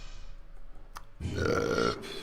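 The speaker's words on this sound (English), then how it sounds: "Just drank some Coke. So, been burping." A man gives a single long, loud, close burp after drinking Coke, with quiet background sound before it and no talking.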